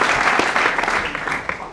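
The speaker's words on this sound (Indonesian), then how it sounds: "Boleh tepuk tangan dulu?" Audience applause at a campus event at Poltek LLASDP Palembang: a dense, loud burst of many hands clapping close by, lasting under two seconds.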